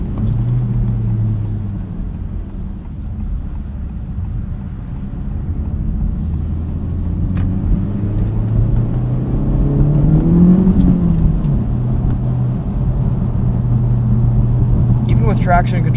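A 2023 Honda Civic Type R on 18-inch wheels and tires driving on icy winter roads, its engine rumbling and whirring steadily from inside the cabin, rising briefly as it accelerates, with a person talking over it.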